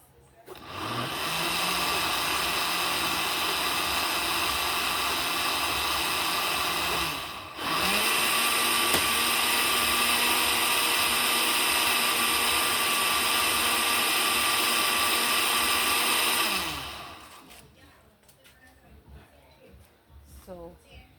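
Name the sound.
blender blending peanut mixture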